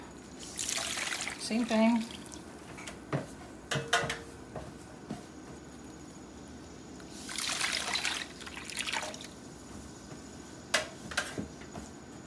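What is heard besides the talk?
dye water poured over yarn, trickling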